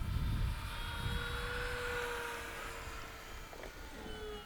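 E-flite P-51D Mustang 1.5m electric RC plane flying a snap roll to the right, a steady whining motor and propeller drone that shifts pitch as it passes at moderate distance, with outdoor wind noise and no talking.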